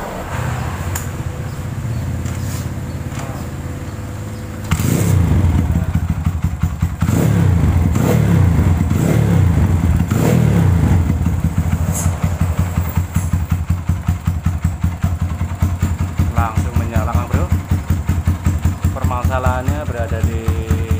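A Kawasaki KLX motorcycle with BRT ignition, after carburetor cleaning, idles with a steady clattering thump, then picks up and revs several times, loud and close, with a voice talking over it.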